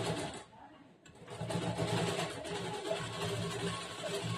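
A sewing machine runs steadily while stitching fabric for a churidar top, its motor whirring continuously after a brief pause near the start, with a voice speaking over it.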